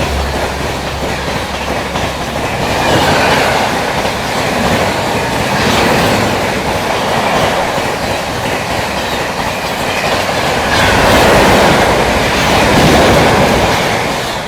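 The New Delhi–Shri Mata Vaishno Devi Katra Uttar Sampark Kranti Express passes close by while overtaking the Jammu Mail, with a steady loud rumble and clickety-clack of wheels on rail joints that swells and continues throughout.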